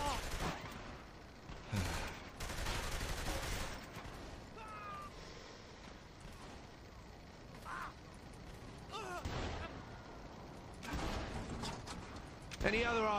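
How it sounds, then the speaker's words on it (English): Gunfire in the video game Saints Row: The Third comes in a few short broadband bursts with quieter stretches between them. Someone talks over most of it. "Oh god, now I'm being shot at."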